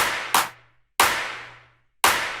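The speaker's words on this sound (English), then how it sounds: "And then we of course have the second chorus where I'm adding these cashmere claps." Cashmere clap samples in an electronic track, three crisp, bright hits spaced roughly evenly, each with a short fading tail and quiet gaps between them.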